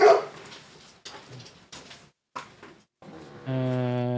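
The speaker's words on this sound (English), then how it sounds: "And the dogs are gonna go mad." Dogs bark in a few sharp, scattered bursts, fairly faint and separated by short pauses, followed by a steady, tonal electronic hum at the end.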